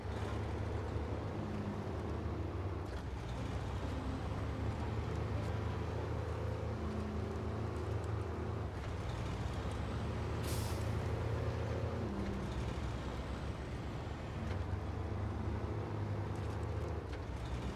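A truck drives through a video game world, its engine a steady low rumble that stays constant and fairly quiet, with a brief hiss of air partway through.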